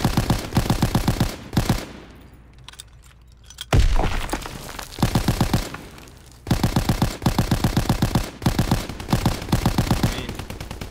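An AVS-36 rifle in the game Call of Duty WWII firing in rapid automatic bursts, loud and close, several sustained strings of shots separated by short pauses, with a sharp crack and echo between bursts.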